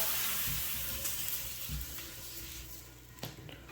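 Marasee flatbread batter cooking on a hot griddle, a close, continuous hiss and sizzle that fades slightly over time, with brief clinks of utensils and no talking.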